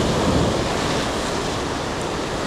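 Ocean waves break on a rocky fishing shore in a loud, continuous roar of surf, slightly stronger at the start, with wind buffeting the microphone and no voices.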